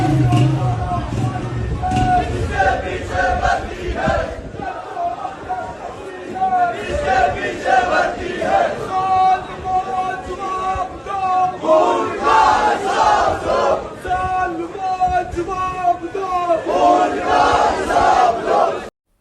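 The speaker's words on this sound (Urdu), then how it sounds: "یہ نعرے راولا کوٹ آزاد کشمیر کے اندر آج لگے ہیں" Crowd chanting slogans at a protest in Rawalakot, Azad Kashmir, defying a curfew, many voices shouting in rhythmic call-and-response, loud and continuous with street noise underneath.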